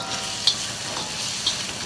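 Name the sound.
rice added to frying meat in a pan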